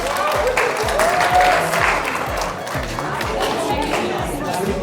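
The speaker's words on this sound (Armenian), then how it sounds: "ծափ տվեք, հա" Audience applauding at a celebration with surprises, a steady wash of clapping mixed with chatter and voices, swelling briefly then holding level, with speech running over it.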